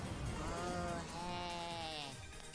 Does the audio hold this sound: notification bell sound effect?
no